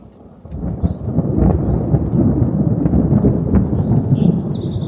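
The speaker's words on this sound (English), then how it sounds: "It's raining, but the sun's out." Steady heavy rain pours close by at a cabin in sunshine, a dense broadband wash that rises within the first second and holds loud throughout, with a low rumble that could be thunder and a few faint bird chirps on top.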